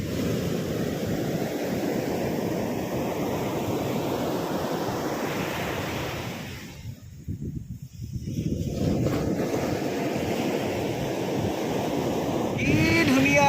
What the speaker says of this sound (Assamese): আমি এতিয়া পালোহি ৰাজহংস দ্বীপ সাগৰৰ শব্দ শুনিছে